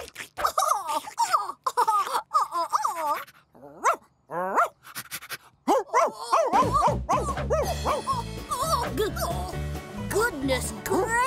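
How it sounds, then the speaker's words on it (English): A cartoon dog barks loudly in a children's phonics animation, a run of yips and woofs following animated character speech, with a swell of background music coming in partway through. "Dog."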